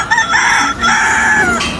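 A person imitates a rooster crowing, a loud, close, sustained voiced cock-a-doodle-doo with rising and falling pitch, alone without other talk.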